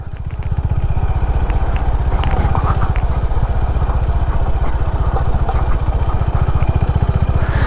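A Honda CB350 motorcycle engine thumps in a steady, rapid low pulse, loud and close, with wind rush over it while riding off-road.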